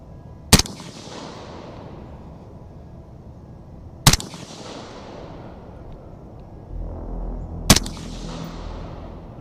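Three loud, sharp gas gun rifle shots fired at a target during precision shooting with a Vector Optics Continental 1-10 scope, spaced a few seconds apart, each with a short decaying tail, and no voices.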